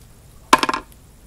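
Cap of a Burt's Bees lip tint popping off: a single short, crisp pop followed by a few quick clicky rattles, close and fairly quiet against a hushed background.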